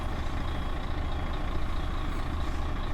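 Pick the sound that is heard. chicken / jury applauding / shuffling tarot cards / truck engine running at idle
truck engine running at idle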